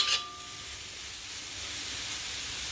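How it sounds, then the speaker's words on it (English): Garlic cooking in a pan over medium-low heat gives a soft, even sizzle and hiss that continues steadily throughout, gentle and close, after a brief clink at the start. "I'm cooking kind of medium low, so I don't want to burn the garlic."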